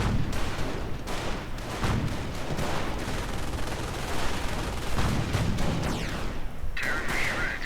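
Rifle gunfire and battle noise in a real-time strategy video game, with dense, continuous shooting and booming impacts layered loudly throughout and no clear gaps.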